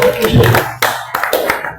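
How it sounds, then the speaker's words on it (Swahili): Church congregation clapping for Jesus during a sermon, with several quick bursts of hand claps mixed in with a preacher's voice. "Wanaweza kufikiri pigia kwa Yesu makofi"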